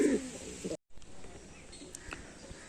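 Singa pigeons coo softly in a loft, with a brief low cooing phrase near the start, a short dropout, then quieter intermittent calls over a faint background hum.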